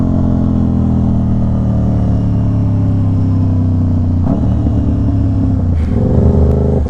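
An Aprilia RS660 sport motorcycle engine drones loud and steady at high revs, then drops sharply with quick-shifter gear changes partway through, pitch stepping down and climbing again, with no talking.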